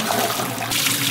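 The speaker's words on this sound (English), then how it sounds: "A couple of times, rinse this and pour out the water." Rinse water is poured out of a pot of scrubbed chestnuts, a loud continuous splashing gush that fills the whole moment with no voices.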